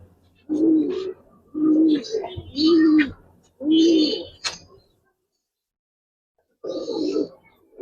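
A pair of Pankhi fancy pigeons gives close, soft, throaty coos in four quick rounds, falls silent, then coos once more.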